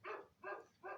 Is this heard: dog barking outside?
yes